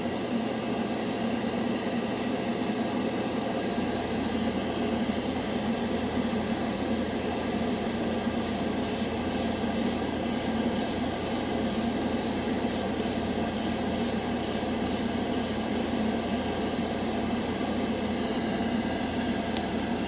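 An airbrush sprays Mission Models chrome paint in a steady, loud hiss of air that runs throughout, with a rapid series of short sharp clicks or pulses in the middle section and no talk.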